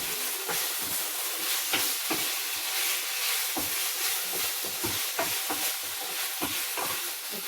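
Chicken and broccoli stir-fried in oyster sauce in a pan, a steady close sizzle broken by repeated scraping stirs and clatters throughout, with no voices.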